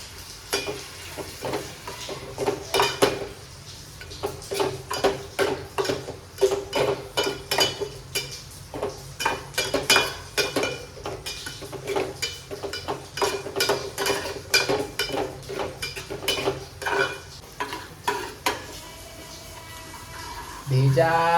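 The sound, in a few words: liver being mixed in a cooking pot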